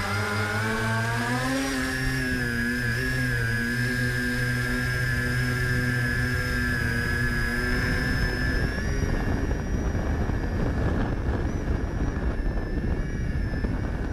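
A VTOL model aircraft fitted with 3D-printed vortex generators flies overhead, a steady electric motor whine with shifting pitch that rises and falls over about fourteen seconds, later mixed with broadband wind rush.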